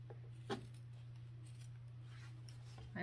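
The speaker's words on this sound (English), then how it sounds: "And then we'll trim these corners." Fabric scissors snip the corners of sewn backpack fabric, a few quiet, sparse cuts close by over a low steady hum, with a slightly louder snip near the end.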